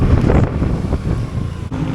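Wind buffets the microphone on a motorcycle long ride near Los Baños, Laguna, a steady, loud, low rumble that carries on throughout with a brief dip near the end.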